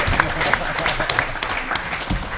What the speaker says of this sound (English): If we could just have a round of applause for